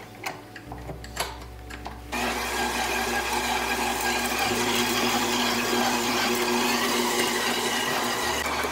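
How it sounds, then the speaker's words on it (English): A stand mixer with a dough hook kneads baguette dough at medium speed. A few faint clicks come first, then a loud, steady whirring motor runs on without a break. "we're gonna mix it at medium for about 5 minutes. I'm gonna use my dough hook."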